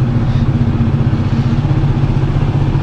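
Motorcycle engine just after a cold start, a close, loud, steady low putter with a faint mechanical clatter, running continuously without revving.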